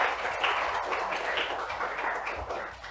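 Audience applause at a vernissage opening an exhibition of works made in creative craft workshops, a dense, steady wash of many hands clapping that holds evenly at moderate loudness throughout.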